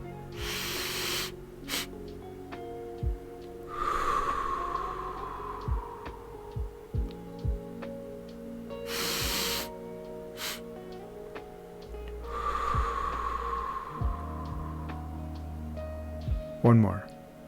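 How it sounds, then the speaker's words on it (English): Guided deep breathing during a mindfulness session: a couple of long, audible inhales and exhales rise over a steady, soft tonal background. "So on the count of 3, let's take a breath."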